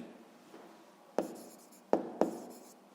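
A pen writing out a sixth-grade math exercise solution by hand on paper, a faint close scratching with a few sharper strokes and taps, no voices.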